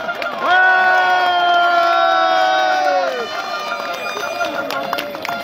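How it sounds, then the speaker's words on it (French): A crowd at an outdoor protest rally in Noiseau, France, cheers loudly while a long, steady horn-like blast sounds over the noise and then fades, leaving the crowd murmuring and cheering underneath. "Applaudissez-les, soutien total à leur combat"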